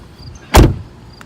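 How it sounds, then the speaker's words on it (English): A single solid car door thumps shut, loud and close, inside a quiet vehicle cabin. "shut the door, please."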